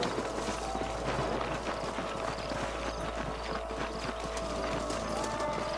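Steady clip-clop of horse hooves trotting along in the video game Red Dead Redemption, rhythmic and close, over a constant low rumble of background noise.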